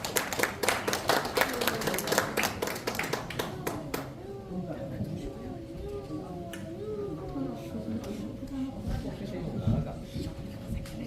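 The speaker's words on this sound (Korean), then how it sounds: "또 박수 부탁드리겠습니다." Brief audience clapping at a book launch event, crisp and fairly close for about four seconds, then fading as voices and background sound take over.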